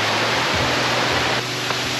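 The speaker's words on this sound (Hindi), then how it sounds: "We have reach सेमिलांगसो waterfall." Steady, close rushing of water at Semi Langso waterfall among rocks, a dense continuous roar of falling water with no talk over it.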